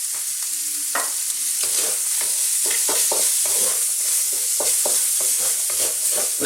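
Bacon frying in a pan over medium-high heat while being stirred, a constant loud sizzle with rapid irregular scraping and clacking of the utensil, close up.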